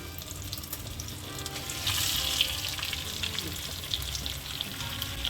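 Pork chops seasoned with salt and black pepper fry in fat in a pan, giving a steady, close sizzle that swells slightly partway through and holds without talk.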